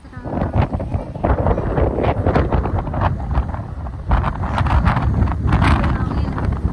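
Strong wind buffets the microphone outdoors in Hong Kong, with loud gusting rumble throughout and voices faintly mixed in.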